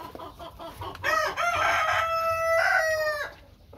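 A Brahma rooster crows close by, a loud, long, drawn-out call of about two seconds that follows a few short clucks, with faint chicken noise around it.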